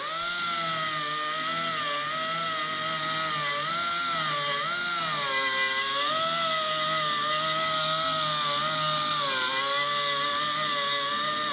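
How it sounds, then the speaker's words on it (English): A handheld grinding tool whines steadily as it ports the housing of a 3-rotor engine, a loud continuous high-pitched tone whose pitch wavers up and down with the load throughout. "focused with the grinding tool on getting in to the actual port"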